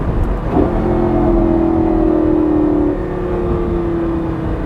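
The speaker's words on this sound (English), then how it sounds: "Listen to that sound of that V10." Lamborghini Gallardo LP560-4 Spyder with a 5.2 liter V10 revving, a loud sustained engine tone holding steady before easing slightly, heard up close and alone.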